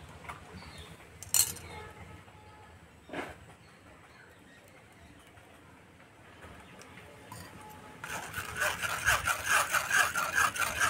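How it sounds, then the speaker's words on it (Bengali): Mustard paste mixed with water and strained for shorshe ilish, heard as faint scattered taps early on, then a rapid rhythmic scraping and clinking of the strainer in the last few seconds. "এবার দেবো জল, এবার আমি এটা ছেঁকে নেবো।"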